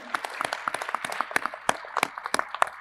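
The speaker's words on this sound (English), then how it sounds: "can you give a big, big hand clap to our wonderful panel and thank them all" Audience at a PMAC 2023 conference parallel session clapping for the panel, a steady patter of individual claps of moderate loudness with no talk over it.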